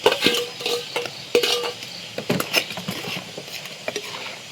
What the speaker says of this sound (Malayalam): ഇതിലേക്ക് നമ്മുടെ ഞണ്ട് ഇട്ട് കൊടുക്കാം.